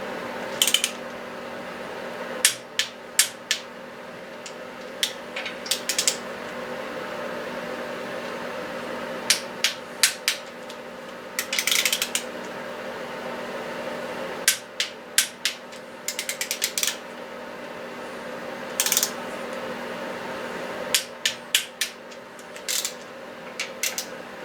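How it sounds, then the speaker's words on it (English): Torque wrench clicking repeatedly while tightening six water pump bolts to 22 foot-pounds, with short bursts of ratcheting between sharp clicks over a steady low hum, close and fairly quiet. "got a second torque wrench here set already for my second pass. And this one is going to 22 foot-pounds"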